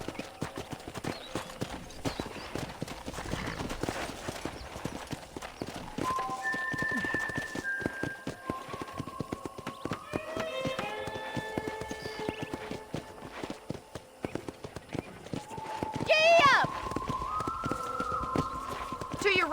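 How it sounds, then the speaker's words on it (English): Horse hooves clip-clop steadily through a ride in the Red Dead Redemption video game, a continuous rhythmic trotting with musical score and occasional spoken dialogue over it. "I picked out a fine horse for you."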